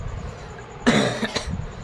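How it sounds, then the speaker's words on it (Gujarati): A couple of sharp, close coughs in quick succession break a quiet background, then fade back to stillness. "ઉધરસ આવે છે"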